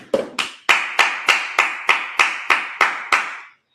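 A church congregation at a Sabbath service claps hands in unison, about ten sharp, evenly spaced claps in a steady rhythm, close and loud, ending abruptly into silence.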